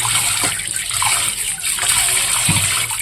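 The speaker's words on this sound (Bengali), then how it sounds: "কাঁচা লঙ্কা সব ধুয়ে রাখছি" Green chillies washed under running water at home, a steady close stream of tap water with a few splashes as the chillies are rinsed.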